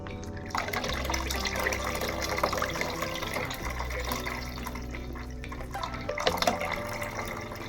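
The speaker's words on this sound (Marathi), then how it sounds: "तिथं चाणी उदक घालता." Water poured into a pot of chicken gravy with potatoes, a continuous splashing, gurgling stream that runs the whole time, loud and close, with a brief surge near the end.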